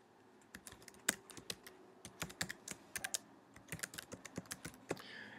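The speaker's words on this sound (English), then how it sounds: "I am going to type in my email." Keys on a computer keyboard are typed in short bursts of quick, close clicks, with irregular pauses between runs while an email address is entered; no voices.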